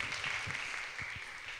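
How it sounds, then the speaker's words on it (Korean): A church youth-service congregation breaks into applause as the pastor steps down: a brief, steady wash of clapping from a room full of people, moderately close and unbroken for under two seconds. "목사님 내려가실 때 박수 한번 부탁드립니다."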